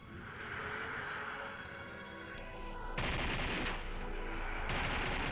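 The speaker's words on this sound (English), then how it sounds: "She's firing off like 5 rounds a second." In the Tomb Raider action game, a semi-automatic shotgun fires rapidly, a loud dense burst of overlapping shots that starts suddenly partway through over steady background noise and repeats again near the end.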